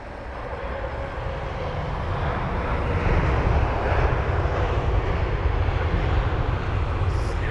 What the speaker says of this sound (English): And that's the Virgin 7879 Dreamliner from Las Vegas